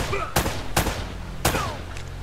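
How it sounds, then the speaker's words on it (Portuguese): Gunfire in the video game Uncharted: Drake's Fortune, three loud, sharp shots spaced roughly half a second apart, each with a short ringing tail over steady game ambience. "Olha só quantos tiros tem que dar no cara, velho."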